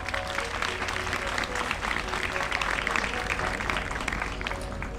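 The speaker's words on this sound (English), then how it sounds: "I invite you to give your leaders, teachers, and parents a round of applause." Sustained applause from a crowd at a high school valedictory service, a steady dense patter of many hands clapping at moderate distance throughout, with faint voices beneath.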